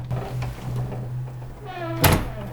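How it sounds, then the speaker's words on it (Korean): A bathroom door is pulled open with one abrupt thunk near the end, preceded by a faint creak, all over a low steady hum in a quiet room. "문을 열자"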